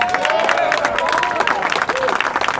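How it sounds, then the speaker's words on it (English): Crowd applause with scattered clapping and cheering at a political event in Los Angeles, loud and continuous, mixed with voices talking over it. "give him a round of applause"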